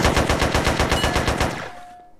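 Rapid automatic gunfire from the video game SA-MP, a loud sustained burst of evenly spaced shots for about a second and a half that then stops and leaves a short ringing tail.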